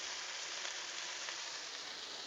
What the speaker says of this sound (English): The sizzle of the Blackstone.